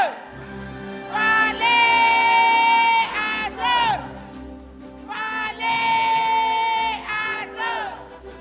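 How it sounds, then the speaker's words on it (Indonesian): Supporters at a 2018 Padang Panjang mayoral candidate debate roar in loud cheers and shouts, two big swells of crowd noise with a brief dip between them. "Kita beri tepuk tangan untuk pendukung pasangan calon nomor urut 4."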